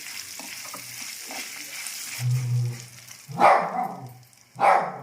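Cashews, dried red chillies and curry leaves fry in a lemon pulihora tempering with a soft, close crackling hiss, stirring noises, and a few loud bark-like bursts cutting in near the end.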